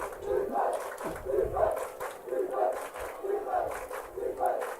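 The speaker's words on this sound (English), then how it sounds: "Student section cheering him on." A high school student section cheers at a varsity football game between Crete and Norris, rhythmic massed chanting rising and falling in regular pulses, loud crowd voices throughout.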